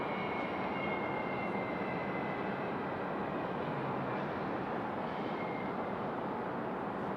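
An Air Canada airliner arrives at Raleigh-Durham International Airport, its engines giving a steady, distant broadband roar that holds level throughout with no talk over it.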